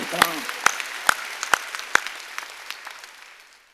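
A church congregation claps along during a worship service, a handful of sharp, evenly spaced claps ringing out near and loud, then thinning into scattered softer claps that fade away.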